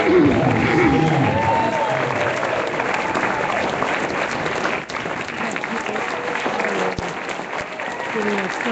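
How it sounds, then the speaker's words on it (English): An audience of about a hundred gives a sustained standing ovation, dense steady clapping that fills the room and tapers slightly near the end, with a few faint voices in the crowd. "Giving a standing ovation for the electric."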